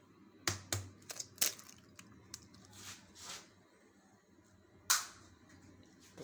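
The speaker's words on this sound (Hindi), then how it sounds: "तीन अंडे आपने डालने।" Three eggs are cracked for a mixed vegetable soup: a series of sharp, close taps and cracks, some in quick clusters, with soft squishy handling sounds between them and no speech.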